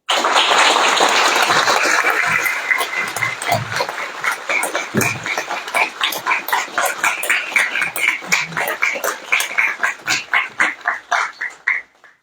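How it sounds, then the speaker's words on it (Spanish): Audience applause welcomes Dr. Miguel Carbonell at a Supreme Court of Justice forum in Colima, a dense burst of clapping that thins into scattered claps and dies out near the end. "Bienvenido, doctor Miguel Carbonell, para que pido un fuerte aplauso"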